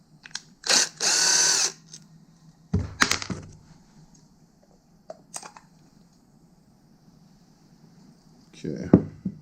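A power drill works on a 1993 XLT modified snowmobile during fuel-system work, with one sustained close whir and several shorter bursts and clunks between pauses, while someone talks.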